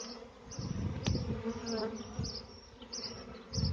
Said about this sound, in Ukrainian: Рій величезний. Зараз я його трісу. Купа бджоли, бджола тяжка, бджола з медом нагружена.